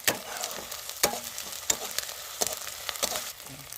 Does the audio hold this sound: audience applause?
no